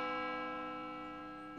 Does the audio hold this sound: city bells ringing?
yes